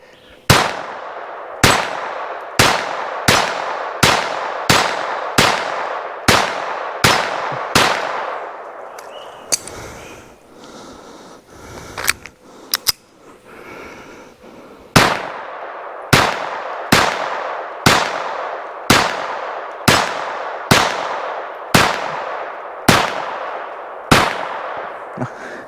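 A Ruger SR22 .22 pistol fires at a target in two quick strings of sharp, evenly spaced cracks with ringing hits, about a dozen shots each, separated by a quieter pause with handling clicks.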